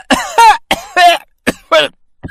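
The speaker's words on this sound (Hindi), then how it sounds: "जोर जोर से खांसने लगा।" A man with food stuck in his throat coughs loudly in a rapid series of about six harsh, hacking bursts separated by brief gasps.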